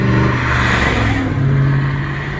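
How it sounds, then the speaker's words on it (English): BMW car engine revving hard as it drives past, a loud close roar that swells and then fades slightly over a couple of seconds, with no one talking. "that's the first time I ever heard a BMW sound like a Chevrolet"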